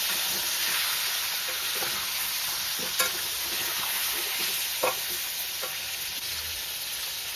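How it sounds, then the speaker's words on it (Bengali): Potatoes lightly frying in hot oil for chicken biryani give a steady, close, loud sizzling hiss throughout, broken by a few sharp clicks and scrapes of stirring, with no voices. "খুব হালকা ভাজা হবে এগুলো।"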